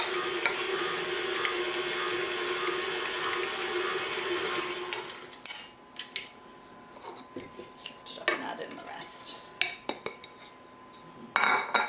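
Flour is blended into a sponge batter with a steady whirring hum for about five seconds, then the mixing stops and bowl and utensil clinks and taps follow, close by with faint low voices.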